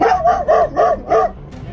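A dog barks five times in quick succession, loud and close, followed by a brief soft whimper.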